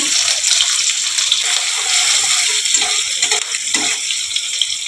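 Whole cumin seeds and chopped onions sizzling in hot oil, a steady bright crackle and hiss that runs continuously and fairly loud, with faint talk behind it.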